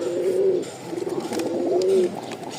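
A male pigeon of a high-flying tumbler breed, kept alone for a long time, coos in a steady rolling run, close and clear with nothing else around.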